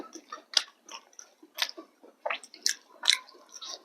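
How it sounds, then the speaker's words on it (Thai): Close-up chewing of milk-marinated grilled chicken, biting down on the bone, with irregular wet crunches and squishy bites repeating every fraction of a second in an otherwise quiet setting. "เมื่อกี้เคี้ยวกระดูกตรง"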